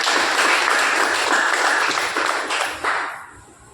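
Loud, dense applause from an audience at a business-plan seminar, many hands clapping together near and full before thinning and fading out over the last second.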